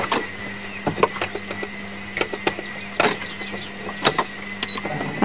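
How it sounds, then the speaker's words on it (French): A sewing machine stitching two trouser pieces together for a three-piece suit, running in short bursts with sharp clicks and mechanical whirring nearby, fairly loud, with no talking. "Là, il faut que je couds ces deux-là ensemble"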